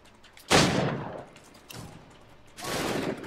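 Gunfire in the video game Assassin's Creed 3: a sharp, loud musket volley, a softer follow-up shot, then another crackling burst near the end.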